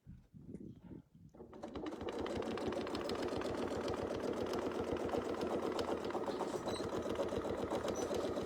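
A sewing machine runs steadily and loudly from about two seconds on, stitching fabric for Persian turrets, after a few soft handling sounds at the start.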